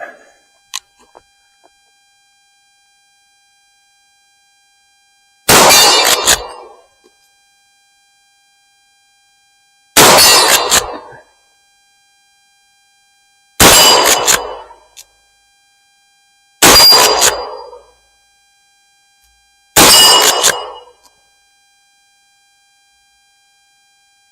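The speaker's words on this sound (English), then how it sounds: "The 50-yard one, the torso one, makes the loudest clang, but give it a shot." A Winchester 1892 lever-action rifle chambered in .44-40 fires five sharp shots a few seconds apart. Each shot rings against a steel torso target about 50 yards away, with quiet gaps between the shots.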